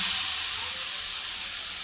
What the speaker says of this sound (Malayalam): ഇതിലേക്ക് കപ്പയ്ക്ക് തട്ടിയിട്ട് കൊടുക്കുന്നു